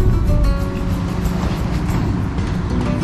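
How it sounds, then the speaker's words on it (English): Constant low engine rumble and water churning from a car ferry docking on the Rhine river to let cars off, steady and close throughout with no talk. "He's docking to let the cars off"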